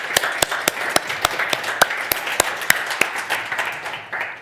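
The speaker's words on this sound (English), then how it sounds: "A big applause," Audience applause for presenters at the opening day of an EdTech hackathon, a steady sustained clapping with sharp individual claps standing out, fairly close and loud, no talking over it.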